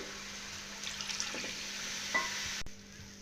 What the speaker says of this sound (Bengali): তো এখানে সুজিটাকে অনবরত নেড়ে চেড়ে আমি একটা ডো তৈরি করে নেব